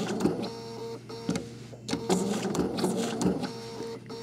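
A sewing machine stitches eyes and mouths, with a fast mechanical whirring and clatter broken by short pauses between runs of a few stitches, close and steady.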